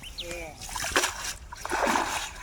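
Pond water splashes and sloshes as a fishing net is rinsed of mud, with several close splashes and trickles heard under people talking.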